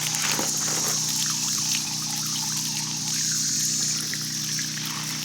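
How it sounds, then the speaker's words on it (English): Water trickling and pouring steadily while raised garden beds and pots are watered, a continuous close splashing flow that stays fairly even throughout with no talking. "it'll go down to a trickle and then it kicks up and it waters a little more"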